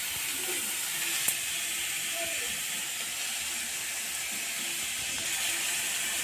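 Cauliflower and fried onion sizzle in a wok, making a faint, even hiss that holds steady from start to finish with only a couple of small knocks.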